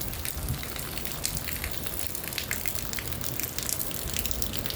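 Steady rain falls outdoors in a dense, even hiss of drops striking surfaces, continuous and fairly close with no voices.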